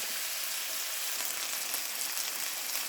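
Chicken pieces frying in a pan for udon chicken soup, a steady close crackling sizzle with fine popping, even and continuous throughout with no talking.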